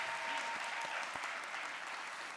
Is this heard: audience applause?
yes